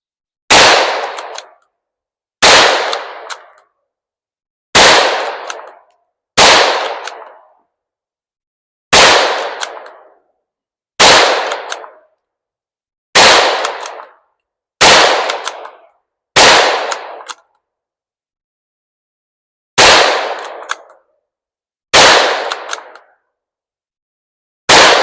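A Ruger Precision Rimfire 17 HMR rifle with a Sig scope fires about a dozen sharp, loud shots at clay targets, fruit and a bottle, spaced roughly two seconds apart, each with a short decaying echo.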